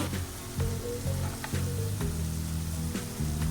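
Mustard and sesame seeds sizzle in hot oil for ginger chutney, a dense close crackling hiss with soft periodic stirring scrapes underneath, continuous throughout with no voices.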